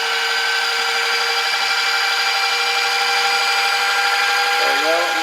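A lab machine spinning at thousands of RPM, its drive whining in a steady, loud, high-pitched hum with layered tones that holds throughout. A brief voice enters near the end.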